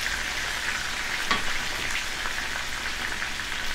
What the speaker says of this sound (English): this is after 10 minutes of frying